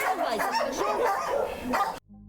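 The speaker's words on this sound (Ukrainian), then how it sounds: "Ось цей собака був вигнаний з сусідського двору, а тут він отримав прихисток та їжу." An abandoned dog in Zaporizhzhia, driven out of a neighbour's yard and now sheltered and fed, barks and yelps steadily and close for about two seconds before falling silent.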